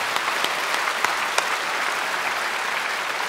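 A church congregation applauds after a women's mission choir's hymn, loud continuous clapping from a large crowd filling the space, with a few sharper individual claps standing out.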